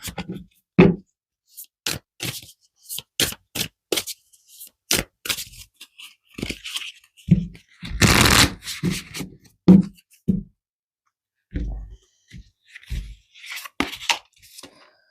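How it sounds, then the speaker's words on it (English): Spiritual energy cards are shuffled and pulled. Crisp, close flicks and snaps come in irregular bursts, with a longer riffling shuffle in the middle, and there is no talk. "I'm going to pull a few energy cards, spiritual energy cards."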